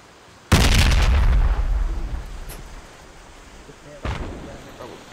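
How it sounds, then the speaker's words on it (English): A grenade blast in the military shooter game Project Reality: one sudden loud, close explosion with a rumbling tail that fades over a few seconds, followed by a fainter second bang. "Grenade, grenade."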